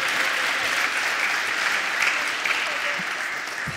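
Audience applause at a children's show-and-tell day during a Python conference, a steady wash of clapping from a crowd at moderate level, continuous throughout.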